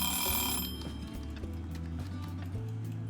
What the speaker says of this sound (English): And there was the alarm.